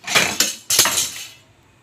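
A kawali wok set down on a stove, two quick metallic clanks in succession, each ringing briefly before fading to quiet.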